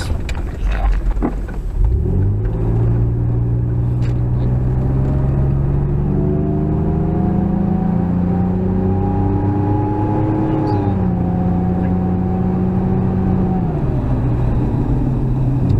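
A re-geared car strains uphill, its engine note climbing steadily over a long loud pull with a deep rumbling drone throughout, no talking.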